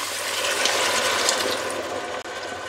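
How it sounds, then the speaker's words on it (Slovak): Water is poured into a hot pan of frying green beans, making a loud rushing, bubbling hiss that holds steady before a sharp dip near the end, with no voices. "Podlejeme troškou vody."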